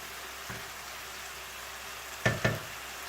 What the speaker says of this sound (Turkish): Domateslerimiz biraz kavruldu ve yumuşadı.